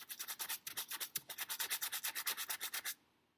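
A paintbrush scrubs oil paint onto canvas in a still life block-in, making about twenty quick rhythmic rasping strokes, close and clear, that stop abruptly near the end with no talk.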